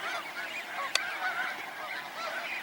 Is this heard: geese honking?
yes